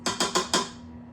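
A spoon taps four quick times against a bowl while spices go into paleo pumpkin spice cookie dough, bright close clinks in an even rhythm that fade out.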